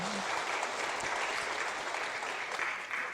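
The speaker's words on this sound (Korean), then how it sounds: "우리 박수 한번 쳐드리겠습니다." A church congregation applauds graduates at a Sunday worship service, steady sustained clapping filling the room at a moderate level for the whole stretch, with a brief voice underneath at the start.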